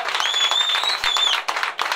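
Applause for a boxer at a boxing weigh-in, a brief burst of crowd clapping with a whistle and a few scattered claps trailing off near the end.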